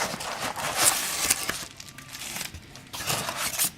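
Packing paper crinkles and crumples loudly up close while a knife is unboxed, coming in two rustling bursts separated by a brief quieter pause.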